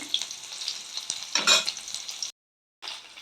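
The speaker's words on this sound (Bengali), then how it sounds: "এখন পেঁয়াজটা ভাজা করছি" Onions sizzle and crackle in hot oil in a kadai with cumin and bay leaf, a spatula stirring and scraping, a loud burst midway, then a short silence before the frying resumes.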